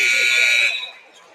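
A loud, steady electronic buzzer sounds at the end of the half in a high school basketball game between Benedictine and St Andrews. It holds for under a second, then cuts to crowd noise in the gym.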